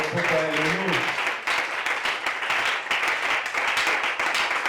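Church congregation applauding and cheering in praise during a worship service, a dense continuous wash of clapping and voices that stays loud and steady throughout, with a brief sung or shouted tone at the start.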